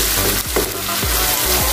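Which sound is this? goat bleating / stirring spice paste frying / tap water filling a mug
stirring spice paste frying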